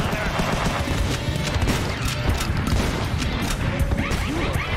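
Gunfire in the side-scrolling action game Huntdown rattles in a dense, loud volley of shots mixed with crashes and impacts, continuous throughout the short stretch.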